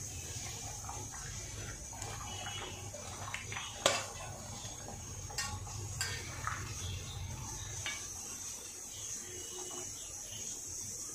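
Egg and raw plantain fritters being added to a simmering potato curry in a pan, soft clinks of a spoon and utensils against cookware over a low bubbling background, with one sharper knock near the start and no talking.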